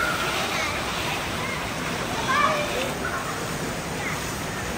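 Continuous rushing water spills over at an indoor water park, a broad steady wash of flow with faint voices and splashes mixed into the background.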